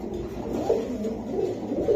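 Pigeons at a market stall coo in low, throaty, repeated calls, fairly close and steady throughout with no one talking.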